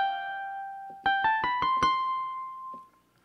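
An FM synthesizer plays piano-like upper-register notes through a phaser effect: a sustained tone, then a quick run of five rising struck notes that ring out and fade, heard alone.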